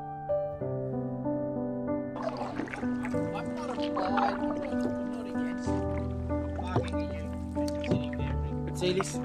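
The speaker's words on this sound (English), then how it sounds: "We're paddling. We're just poking along." A canoe glides along open water as paddles dip and splash in loose, irregular strokes, with soft water sloshing beneath a steady tonal hum.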